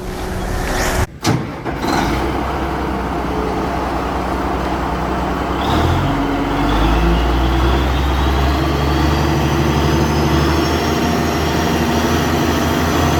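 A Renault K460 T6x6 tractor head truck idles steadily with a low, constant engine rumble, after a brief sharp knock near the start and a slight shift in pitch midway.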